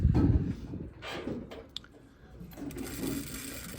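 Sewing machine running a flat felled seam, a steady mechanical whir with a louder burst at the start and a second run near the end, with a brief click in between.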